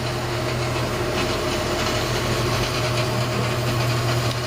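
Steam tank locomotive GWR 9351 idles steadily at Minehead on the West Somerset Railway, a constant low hum and mechanical rumble, a faint hiss layered on top, with no voices.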